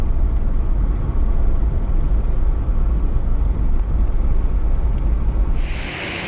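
A steady, close engine and road rumble with light wind noise from inside a car on the road toward McArthur-Burney Falls, changing character near the end.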